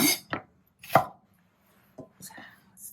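Knife chopping bell pepper into square pieces on a cutting board, a handful of sharp separate cuts with short pauses between them, close and clear.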